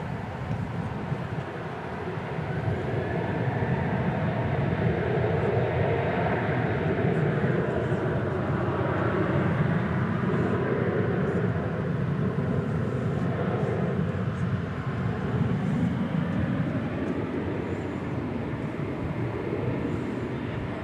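A jet airliner departing DFW Airport, its engine roar swelling after a couple of seconds into a sustained, fairly loud rumbling drone that holds steady and then eases slightly, with no voices over it.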